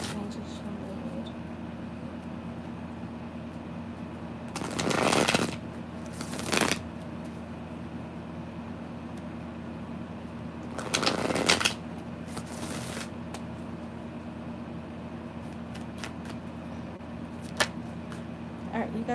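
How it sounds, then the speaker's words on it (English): Tarot cards are shuffled by hand in a quiet room: two pairs of brisk riffling bursts, each a second or so long, close and fairly loud, separated by long near-silent pauses. "Let me shuffle these real good."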